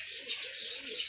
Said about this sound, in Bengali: এই কবুতরটা মনে হয় ঠান্ডা লাগছে।